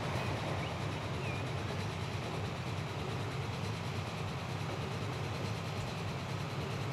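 A train rolls along the line in the video game Transport Fever, making a steady, low, continuous rumble and hum that holds evenly throughout with no voices.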